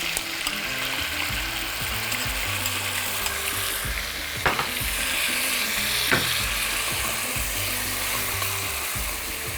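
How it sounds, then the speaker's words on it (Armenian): Beef ribs sizzle and fry hard in a pan as sauce is poured over them, a steady loud crackle with a couple of brief sharper bursts partway through. "Լցնում ենք սոուսը միսի վրա։"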